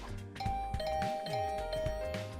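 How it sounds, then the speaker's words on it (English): Repeated doorbell chimes from The Hundred Line video game ring in a quick flurry: bright two-tone ding-dongs stacking one after another over steady game music, with no voices. "I didn't like the sound of that flurry doorbell rings."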